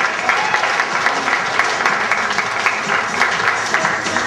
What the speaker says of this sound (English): give a round of applause, Shelley, escorted by Holcomb.